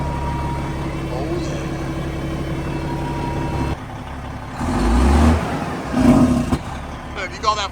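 A Detroit diesel truck engine running after being started, a low steady idle that rises into louder rumbling revs toward the end, close by, with people talking.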